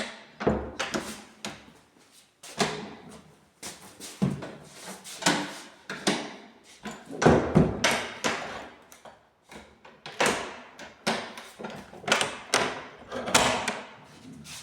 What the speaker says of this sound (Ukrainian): Перевір, як вони відкриваються, закриваються.